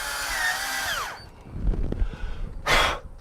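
A power drill drives an aluminum top railing screw into a screen door, giving a loud whine of about a second that drops in pitch as it winds down, followed by softer handling noise and a short burst of air.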